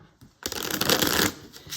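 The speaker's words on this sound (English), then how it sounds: "While I'm shuffling, I'm going to tune in here." Tarot cards shuffled by hand in a quick riffling burst that lasts about a second, then a brief quieter pause and the start of another shuffle, close and crisp.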